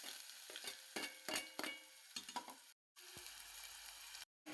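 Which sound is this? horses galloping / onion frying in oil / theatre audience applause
onion frying in oil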